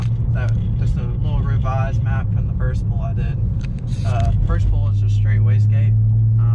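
A BMW 335i with an N54 engine converted to a single turbo drones loudly under acceleration on a road pull, a steady low engine tone that rises near the end while someone talks over it.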